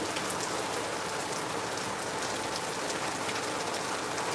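Steady rain falls in Lagos, a dense, even patter of drops on surfaces that carries on without pause at moderate loudness.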